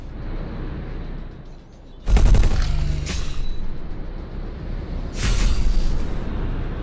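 A smart missile fires in the space game X4: Foundations with two loud, broad whooshing bursts, the first longer and sweeping, the second shorter a few seconds later, over a low steady engine drone.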